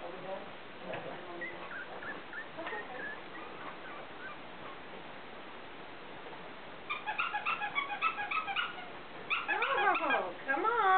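Four-week-old Bolognese puppies whimper and squeak in a pen, high thin cries in quick overlapping bursts that grow busier toward the end, fairly soft and close.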